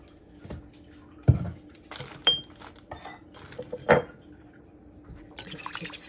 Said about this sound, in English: Just quick stir.